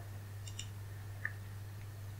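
A computer mouse gives a single soft, quick click partway through, alone against a low, steady background hum.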